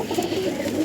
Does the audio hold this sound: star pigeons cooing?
yes